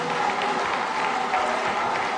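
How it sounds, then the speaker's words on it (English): A crowd applauds steadily for women at an event tied to Konkonoche Hospital, a dense, even wash of clapping that holds at a constant level throughout with no voices on top. "Clap for women."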